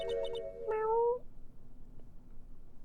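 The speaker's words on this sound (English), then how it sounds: "It sounded like a cat." A single short cat meow from the Phoenix Wright: Justice for All video game, heard clearly and alone, followed by faint background noise.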